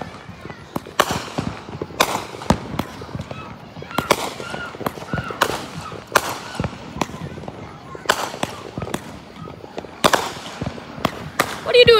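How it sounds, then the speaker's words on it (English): Fourth of July fireworks pop and crack in a series of sharp bursts spread across the night, with crackling between blasts and voices talking in the background. "Okay, here's a firework."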